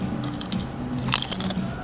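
Thick potato chips topped with mayonnaise crunch loudly under close biting, a few crisp cracks in quick succession.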